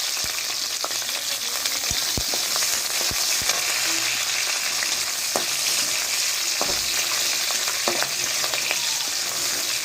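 Garlic and green chili fry steadily in a pan for a Bengali hilsa and taro leaf dish, giving a continuous hiss with scattered sharp pops and a few utensil scrapes, close and fairly loud throughout with no talking.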